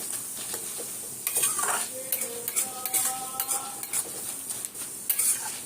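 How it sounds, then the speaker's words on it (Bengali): Flattened rice (chira) frying in oil while a metal strainer scrapes and clinks against the pan, giving a busy sizzle with repeated sharp scrapes and taps close by, and nobody speaks. "এইভাবে এইভাবে ভেজে ছাঁকনি দিয়ে তুলে নেবে"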